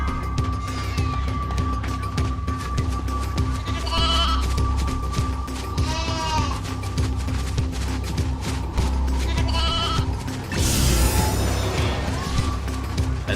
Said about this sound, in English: I think that's the only sheep I could collect the first time.